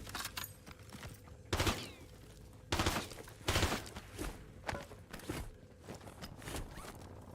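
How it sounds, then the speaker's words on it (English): Gunfire in a shooter video game crackles as bursts of sharp shots at uneven intervals, moderately loud and somewhat muffled, with rustling and movement sounds between them. "Where's the shots coming from?"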